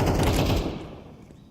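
An AK rifle fires in a Counter-Strike esports match, a loud rapid burst of automatic gunfire that cuts off and fades into a short decaying echo.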